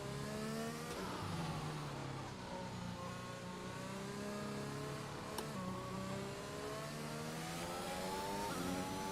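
A Formula 1 car engine in F1 2021 whines steadily at high revs, its pitch dipping and climbing as the car brakes and accelerates, loud and continuous with no talking.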